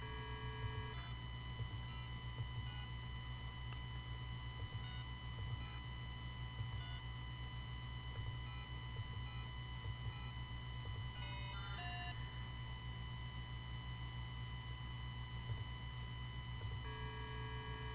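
Telephone number dialed in the Leisure Suit Larry computer game, a series of short synthetic beeps spaced at irregular intervals over a steady electronic tone and hum, faint and without voices.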